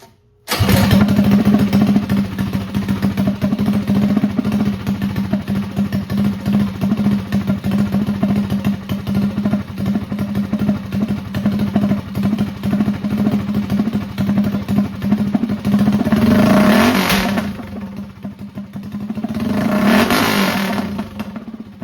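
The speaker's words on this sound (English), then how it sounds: "start doing some actual revs" GTS mini bike engine running hard through its break-in, droning loud and steady with repeated revs, then dropping and surging again in two distinct rises near the end, alone without talk.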